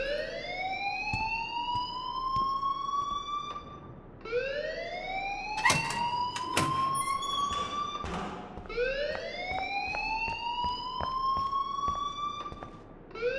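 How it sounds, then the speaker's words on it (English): A school alarm in the game Life is Strange rings in long, loud rising whoops that repeat about every four seconds, with a few sharp thuds over the top. "please turn off that alarm since that's your job"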